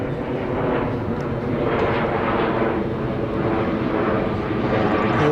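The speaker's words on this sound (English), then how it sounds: "Here we have a plane flying over us somewhere." An airplane passes overhead above an outdoor youth baseball game, a continuous loud rumbling roar that stays steady throughout with no talk over it.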